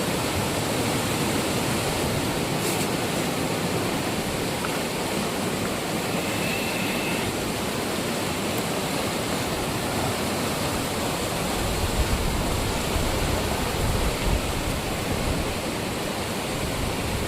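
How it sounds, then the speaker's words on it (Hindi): Loud, steady roar of rushing water at Sahastradhara in Uttarakhand, India, a continuous dense wash of noise with no breaks, like a powerful waterfall close by. "कितना खतरनाक साउंड इस पानी का साउंड है"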